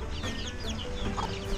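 Chickens clucking at feeding time on a small backyard flock, with several overlapping clucks and chirps from birds close by alongside rustling and shuffling, with no talk.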